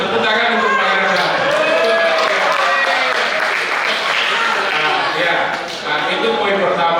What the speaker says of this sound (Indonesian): Tepuk tangan untuk Pak Iradat.